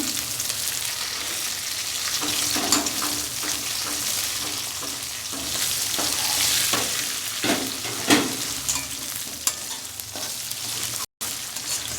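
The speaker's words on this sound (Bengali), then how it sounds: "চালটা একটু ভাজা ভাজা করতে হবে।" Pulao rice sizzles steadily in a pan with whole spices such as cumin, while spoon scrapes and stirring clatter come through now and then over the constant frying hiss.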